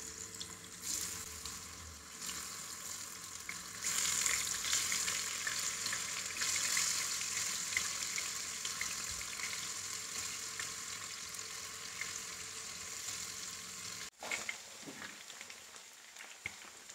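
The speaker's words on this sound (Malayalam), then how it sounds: "ഇനി നമുക്ക് ഇതൊന്ന് വറുത്ത് പോരാം" Chicken 65 fries in hot oil in a pan, giving a dense, continuous crackling sizzle for most of the stretch. It cuts off abruptly near the end, leaving a softer sizzle.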